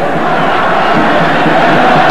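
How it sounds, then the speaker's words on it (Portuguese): Spanish football crowd roaring steadily in a stadium during a 1995 Spain vs Argentina friendly, a dense continuous wall of fans' noise with no pauses. "E aí a torcida espanhola, que agita mesmo."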